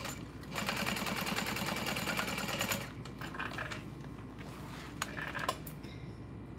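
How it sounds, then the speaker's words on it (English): A domestic sewing machine runs in steady bursts, stitching across the top and bottom of a bag's side seam, its needle chattering rapidly and close, with brief pauses between runs. "sewing across the top, and then turning it around to sew across"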